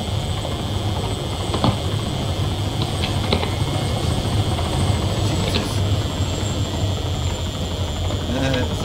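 A helicopter in the video game ARMA 3 gives a steady, droning rotor and engine hum that holds at an even level throughout, with faint mechanical clicks now and then.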